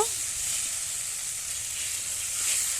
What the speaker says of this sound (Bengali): বেটে রাখা মশলা আর অল্প হলুদ গুঁড়ো লঙ্কার গুঁড়ো পরিমাণ মতো দিয়ে মশলাটাকে একটু ভালো করে একটু কষিয়ে নেব